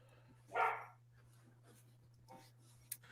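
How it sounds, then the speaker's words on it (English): A dog gives a single short bark near the start, fairly close, followed by quiet room tone with a steady low hum and a couple of faint small noises. "It's my dog."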